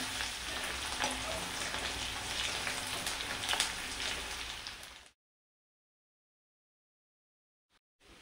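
Coarsely crushed garlic frying in a pan for a sweet and sour mango chutney, a dense close sizzle running steadily for about five seconds before stopping abruptly into silence, with a faint tap near the end.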